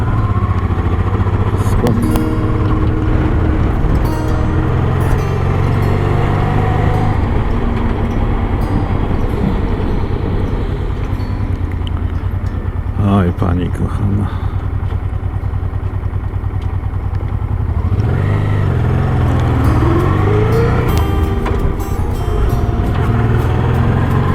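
A buggy engine drones steadily and loudly while driving along a forest road, holding a constant rumble with a brief rise and dip in pitch near the end.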